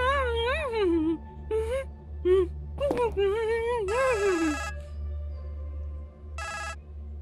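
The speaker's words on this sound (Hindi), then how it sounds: "हेलो मोहम्मद गोरगुन भाई आपके लिए किसका फोन है" Telephone rings out in a tense indoor drama scene, with repeated electronic ring bursts alternating with a man's and others' speech over a low steady hum, the ringing loud and close.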